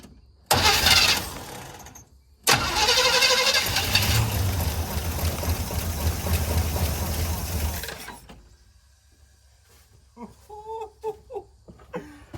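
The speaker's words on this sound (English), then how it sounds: "Now let's see if we can spin her over again." Engine of a 1985 Chevrolet square body truck that sat more than ten years: a brief crank, then a second long loud crank that catches and runs, dropping away before a voice speaks.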